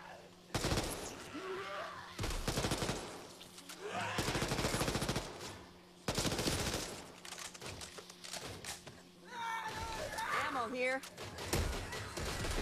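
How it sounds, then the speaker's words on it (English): Submachine gun fire in the zombie shooter Back 4 Blood, loud rapid bursts cutting in and out over several seconds with game effects and players talking between and over the shots. "Using this SMG."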